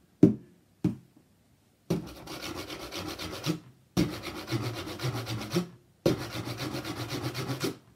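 A box played as an instrument, first with a few sharp knocks, then with three long bursts of scraping, rasping rubbing strokes, each lasting about one to two seconds and separated by short pauses.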